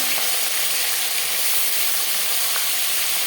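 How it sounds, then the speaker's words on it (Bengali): Marinated hilsa fish head sizzling in hot mustard oil in a pan, a bright, steady frying hiss with small crackles, close and continuous. "এবার দিয়ে দেব ম্যারিনেট করে রাখা মাছ প্রথমে আমি মাথা দিলাম আর দিয়ে দেবো মাছ"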